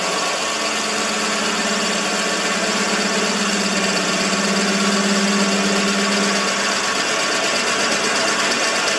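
A Warco lathe running steadily while a 10.5mm drill bores into the workpiece, a continuous mid-pitched mechanical hum with a faint whine rising slightly in the middle, no voices.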